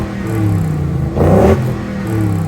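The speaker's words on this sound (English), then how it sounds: "you get a 5-liter Coyote V8 making 460 horsepower and 420 pound-feet of torque" A Velocity Modern Classics vintage Ford Bronco with a 460-horsepower 5-liter Coyote V8 revs in short, throaty bursts, with a stronger blip in the middle, loud and close with no talking.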